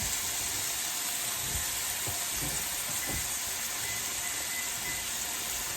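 Steaks sear in a hot pan, cooking at about five minutes a side toward medium well: a steady, dense sizzle and hiss that continues without pause, with a few soft pops and clicks rising out of it and no talking.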